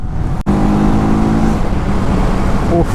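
A TVS Apache 310 motorcycle engine held high in sixth gear, a loud steady drone running close and continuous for the whole stretch, broken by one sharp dropout near the start.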